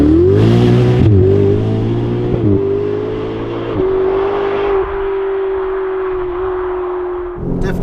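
A Ferrari 488 GTB's turbocharged engine revs loud and close, climbing through gears with brief dips before settling into a steady, sustained drone.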